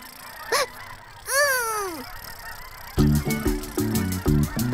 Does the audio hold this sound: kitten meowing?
no